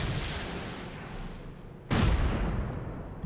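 Rocket fire in the survival game Rust: a low rumbling rush of noise, then a sharp loud boom about two seconds in that trails off into a broad roar.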